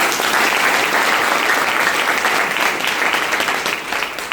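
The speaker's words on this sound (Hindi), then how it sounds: "ताली बजाइए इस काम को" Steady, dense applause from a seated audience at a business talk, a continuous wash of many hands clapping at even loudness throughout, with no speech over it.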